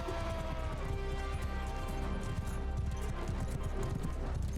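Horses gallop in the medieval combat game Mount & Blade II: Bannerlord, a dense steady clatter of hooves over rumbling game music and ambience, loud and continuous throughout.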